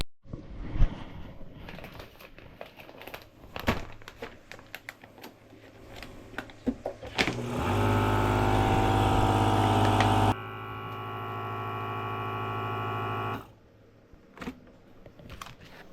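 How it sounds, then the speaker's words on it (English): A vacuum sealer packs bread into containers on an Australian farm. Scattered clicks and handling noises lead into a steady motor hum that drones for several seconds, shifts pitch, then cuts off. "vacuum pack them down so that the little bugs don't get into them"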